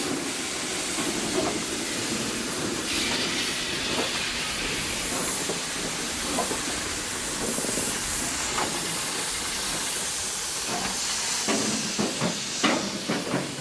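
A South African Class 15F steam locomotive standing for the night, venting a broad, continuous hiss of steam with faint clanks and knocks now and then, nearby and loud, with no talking.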